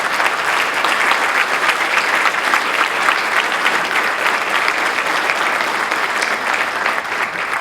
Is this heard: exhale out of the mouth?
no